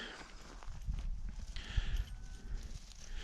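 A horse backing up in a riding arena, its hooves giving a few soft, muffled thuds and shuffles over a low rumbling background, faint and close.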